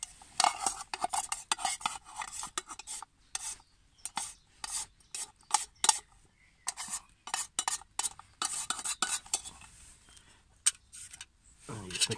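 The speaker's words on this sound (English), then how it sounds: "And you just mix it all up." A small titanium canteen cup pan being stirred as food is mixed, giving a run of close scraping, rasping strokes with metallic clinks, uneven in rhythm, with no talk.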